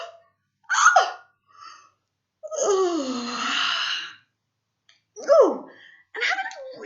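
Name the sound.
yawn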